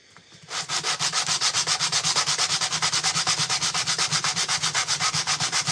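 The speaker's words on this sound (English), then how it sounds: "when I go in with the fine grit sander, that's when you've got to like polish it off" A fine-grit power sander works a wooden skateboard deck with a loud, steady rhythmic rasping that starts abruptly and pulses evenly throughout, close and alone with no voices.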